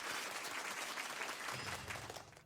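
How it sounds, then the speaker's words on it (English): A crowd cheers and applauds in a video game celebration scene after a story quest victory, a steady wash of clapping and cheering voices that fades near the end. "Your friends cheer for your return and the people of Natland celebrate your victory."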